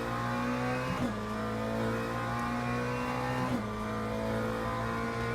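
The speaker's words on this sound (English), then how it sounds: "You know, Porsche engines actually sound nice." A Porsche GT3 race car engine in the Le Mans Ultimate racing game holds a steady, loud drone through the whole stretch, with two brief shifts in pitch near the start and two-thirds of the way through.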